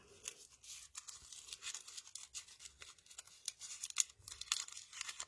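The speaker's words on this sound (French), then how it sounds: "J'ai même coupé un petit morceau du papier coton que je vais chiffonner maintenant devant vous." A small piece of cotton paper is crumpled by hand close to the microphone, giving soft, irregular crinkling and rustling for several seconds with no talking.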